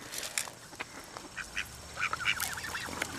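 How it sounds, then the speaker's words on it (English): Ducks quack at a bird sanctuary pond while being fed, a scatter of nasal calls and honks from several birds, some close and loud, others fainter, in quick irregular bursts over light outdoor noise. "Okay, the duck ate all of it."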